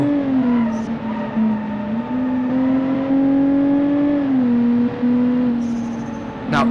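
A car engine in the video game BeamNG, set to sport mode, holds a steady loud drone with small rises in pitch and a brief dip before climbing again, with a sharp click near the end.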